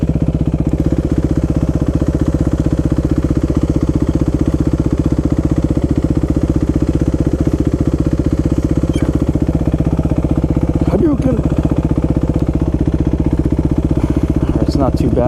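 A 2017 Suzuki RMX450 enduro dual-sport motorcycle idles with a steady, loud, close-up engine rumble throughout.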